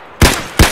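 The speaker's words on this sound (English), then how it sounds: "Who's shooting?" Two sharp, loud gunshots in Escape From Tarkov, close by and spaced about a third of a second apart, each with a quick decaying tail.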